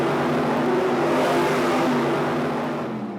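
Race cars at a night race in Western Australia roar off right after the start signal, a loud dense engine drone that fills the clip and eases off slightly near the end.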